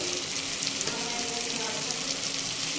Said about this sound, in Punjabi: ਟਮਾਟਰ ਪਿਆਜ਼ ਚੰਗੀ ਤਰ੍ਹਾਂ ਭੁੰਨ ਹੋ ਗਿਆ